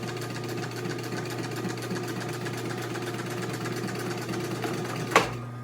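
An upholstery sewing machine fitted with an old welting foot stitches welting for a 1955 Chevrolet two-door post interior, a steady motor hum and rapid needle chatter running evenly before a single sharp clack near the end, with no talk.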